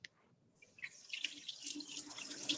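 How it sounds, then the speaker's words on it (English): Bar tools are rinsed under a running kitchen tap: a faint start, then a steady splashing rush of water over metal that builds in level, with small clinks near the end. "Let me rinse out a couple of my bar tools"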